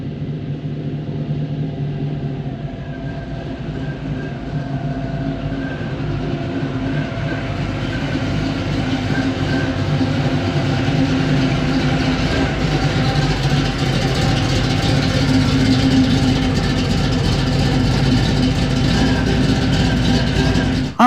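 A 1978 Camaro engine on a short test drive around the block, a loud, continuous rumbling drone of engine and road noise that builds gradually, heard from inside the car.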